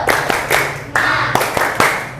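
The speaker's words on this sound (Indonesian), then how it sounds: "Tepuk semangat." A classroom group claps a rhythmic clapping game: sharp clustered claps in an uneven pattern, fairly close, with voices chanting under and between the beats.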